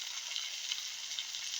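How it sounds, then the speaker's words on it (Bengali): Chicken and turmeric sizzle steadily in a frying pan while they are stirred. The hiss is soft and even, with no talk over it. "দিয়ে এটাকে আমি একটু ভালো করে নেড়ে চেড়ে নেব"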